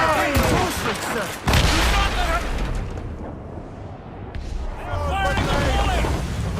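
Repeated ship cannon volleys boom and crackle in Assassin's Creed Rogue during a naval battle, a dense, rolling series of heavy blasts over about six seconds, with crew voices shouting over the gunfire.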